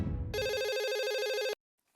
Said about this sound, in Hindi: अच्छा एक मिनट, मैं सोनू को फोन कर देता हूँ